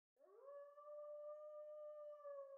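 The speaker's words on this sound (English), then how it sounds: "The howling brings on a headache." A single long, steady dog or wolf howl from the video game Tsukihime Remake, rising at the start and then holding a sustained tone, quiet and alone with no talk.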